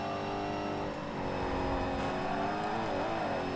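Race cars from the video game TOCA Race Driver 3, including a Porsche, roaring steadily with a loud sustained engine drone whose pitch wavers and dips briefly near the end.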